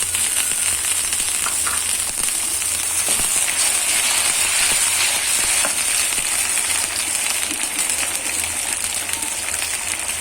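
Onion, dried chili, bay leaf and ginger-garlic paste fry in hot oil, a loud, continuous close-up sizzle and crackle with occasional faint stirring knocks, no talk over it.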